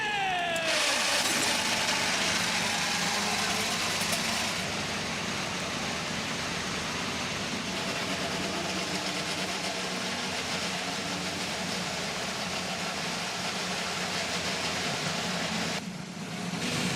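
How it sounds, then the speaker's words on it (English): IndyCar race car engines firing up on the grid at Gateway for the Bommarito 500, a loud sustained roar of many engines filling the whole stretch, fairly dense and steady with a brief drop near the end. "Drivers, start your engine!"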